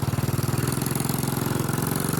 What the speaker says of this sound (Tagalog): Pero magpapandar ako ng motor.